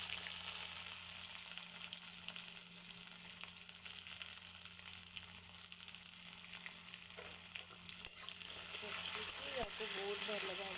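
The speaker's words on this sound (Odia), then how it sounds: "ୟାକୁ ବହୁତ ଭଲ ଭାବରେ ପିଆଜକୁ ଭାଜିଦେବେ" Onions frying steadily in a pan for a dali and poisaga tarkari, a continuous broadband sizzle with faint stirring scrapes near the end and no talk.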